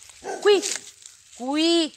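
A dog gives two close barks, the first short and yelping and the second a longer, drawn-out bark, with a brief word spoken between them.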